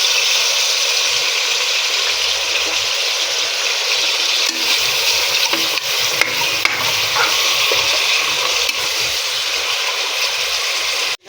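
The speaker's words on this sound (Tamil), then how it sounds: "அந்த கழுவின மட்டன் நல்லா எண்ணெயில் கொஞ்சம் வேக வச்சுக்கலாம்" Washed mutton fries in oil inside a pressure cooker, giving a loud, continuous hiss and sizzle with a few light stirring knocks.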